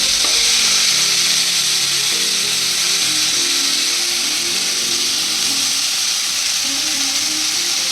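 Chopped onions frying in oil in a pan for a dhaba-style egg masala curry, a loud, steady broadband sizzle that holds evenly throughout with no talking.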